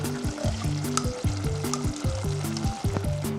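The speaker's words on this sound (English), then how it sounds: "We're going to add a nice big scoop of garlic in there to cook with the wine." Garlic and tomato paste bubbling with wine in a pan, a steady busy sizzle with repeated stirring scrapes and a strong rhythmic tonal pattern riding throughout, close and loud.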